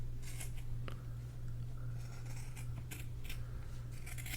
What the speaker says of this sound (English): We're gonna turn this, so this is gonna be a rough cut right now.